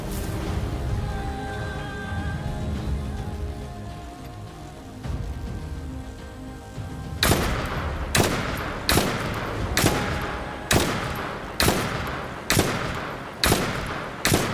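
Gunfire from a weapon in The First Descendant, starting after a stretch of game ambience and becoming a steady run of sharp, loud shots spaced about a second apart, close and repetitive with no speech.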